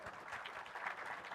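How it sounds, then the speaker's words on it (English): Audience at a tech conference gives a short burst of applause, quiet and fairly distant, a steady patter of many hands. "Let them applaud."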